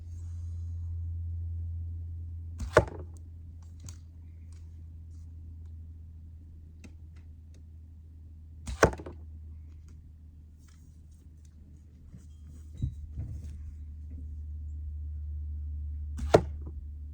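Arrows from a stick bow strike a target four times at uneven intervals, each a sharp, distinct thwack over a steady low outdoor hum with no talk.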